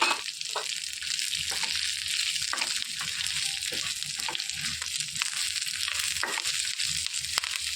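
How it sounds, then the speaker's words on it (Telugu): About two tablespoons of sesame seeds roasting in a pan for a stuffed bitter gourd fry, giving a dense, steady crackling sizzle with small sharp pops and spoon scrapes, close and continuous without speech. "ఒక రెండు టేబుల్ స్పూన్ల నువ్వులు తీసుకున్నాం వాటిని వేసేసుకొని వేయించుకోవాలి"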